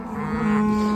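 Cattle in a herd, with calves being pulled off skinny cows, give a steady, fairly loud sustained moo lasting about a second with no talk over it.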